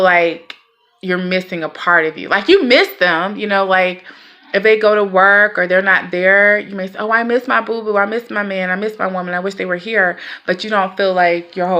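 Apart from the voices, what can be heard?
No everyday noise stands out behind the speech.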